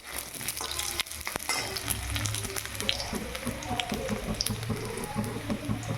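Potato pieces frying until reddish in a pan, a busy crackling sizzle with bubbling pops and a few utensil knocks, close and fairly loud, with a little faint talk underneath.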